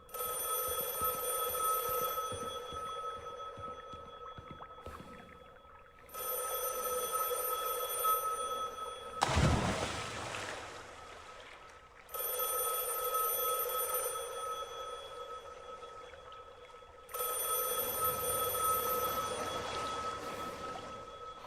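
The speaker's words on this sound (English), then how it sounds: "Better pick up the phone." A telephone rings with a loud echo in a liminal-space pool video game, sounding in four long bursts of steady bell tone separated by quiet pauses, with a brief splashy thud in between.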